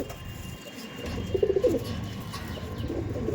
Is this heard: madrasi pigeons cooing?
yes